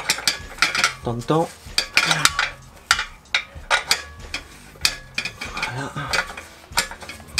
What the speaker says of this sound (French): on va défaire le dernier écrou